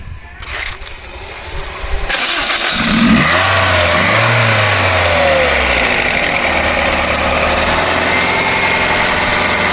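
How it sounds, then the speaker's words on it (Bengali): Used Toyota G Corolla car engine starting with a crank after a brief pause, then revving up and settling into a loud steady run close by, with brief voices near the start. "তবে বা ইঞ্জিন স্টার্ট করেন একটু সাউন্ডটা আমি দর্শকদের দেখাই দিই"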